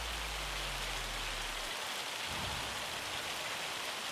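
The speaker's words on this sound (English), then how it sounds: "Oh man, the hail." Hail pours down in a Farming Simulator game, a dense, steady hiss of drops hitting surfaces, with a low engine-like hum cutting off early and a faint rumble afterward.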